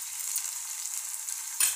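Ginger-garlic paste frying with golden-brown onions in a pan, a continuous hissing sizzle, close and steady, with a brief louder stir near the end.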